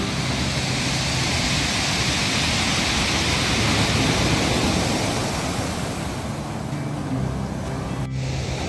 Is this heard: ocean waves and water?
yes